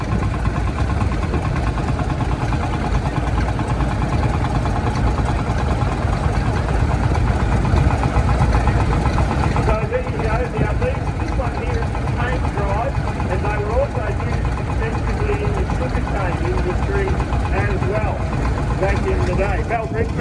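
A 1927 tractor engine idles at a steam rally, a loud, constant low chugging drone that runs throughout, with people talking over it at times.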